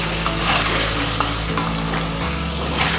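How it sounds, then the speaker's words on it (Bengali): Long-cut potato strips with salt and turmeric sizzling steadily in hot oil in a pan, a loud, continuous frying hiss with occasional stirring scrapes, close by and without speech. "এবার একটু লাল লাল করে আমি ভেজে নেবো নেবো চেরা কাঁচা লঙ্কা আলুগুলো একটু উল্টে পাল্টে লাল করে ভেজে নেবো"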